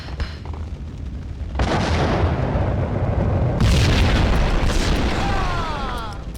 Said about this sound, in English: The whole building was rigged with explosives.